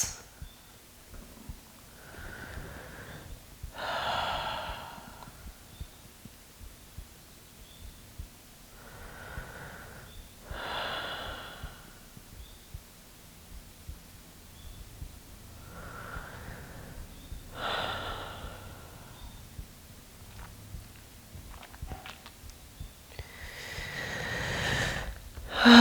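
Slow, deep breaths during a myofascial release session for the low back and hips, with several quiet, airy inhale-exhale cycles spaced several seconds apart in a calm, hushed room.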